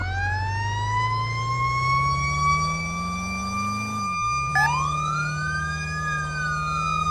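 A wailing emergency vehicle siren from a firefighting video game rises and falls in steady sweeping tones, loud and close, over a low rumbling engine drone, with a brief break midway before the siren resumes.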